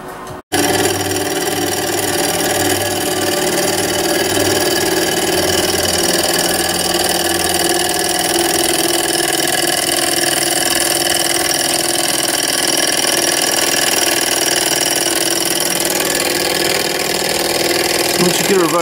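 An HHO-fired alpha Stirling external combustion engine runs steadily, giving a continuous, loud mechanical whir and hum with a rough, even texture that starts abruptly after a brief moment and holds for the whole stretch.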